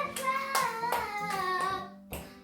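Hands clapping in a home kitchen during cake baking, five or six distinct claps at an uneven pace, each one close and crisp over a sung child-like melody.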